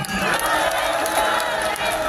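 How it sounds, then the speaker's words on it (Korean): Dense crowd noise at a Democratic Party candlelight rally at the National Assembly, a loud, continuous wash of clapping and cheering from a large outdoor audience, steady throughout with shouts mixed in. "다시 한번 박수 부탁드립니다"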